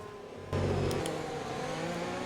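A Formula 1 car in the racing game F1 2020 powers out of a right-hand corner at the Chinese Grand Prix in fourth gear, its engine note jumping abruptly to a loud, sustained high-pitched wail that holds steady to the end.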